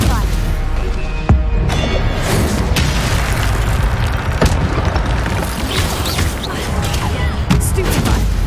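Stupefy spell blasts in Hogwarts Legacy combat: a loud, dense run of booms, crashes and bursting impacts layered over one another, with vocal sounds mixed in.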